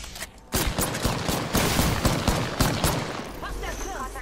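Rapid gunfire in a sci-fi arena shooter video game, dense overlapping shots and bursts that start abruptly and continue loud and steady, mixed with game voice chatter.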